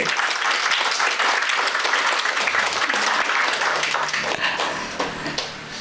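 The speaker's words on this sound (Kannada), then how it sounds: "ದೊಡ್ಡ ಚಪ್ಪಾಳೆ ಬರಲಿ" Sustained audience applause at an award ceremony honouring a respected musician and teacher during a music festival inauguration, a dense, even clapping from a crowd that tapers slightly toward the end.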